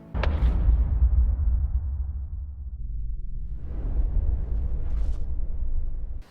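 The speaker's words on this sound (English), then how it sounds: "He shot him in the shoulder" A gunshot goes off in a dramatic TV show scene: a sharp blast followed by a long booming rumble that fades, then a second swelling burst of low rumble near the end.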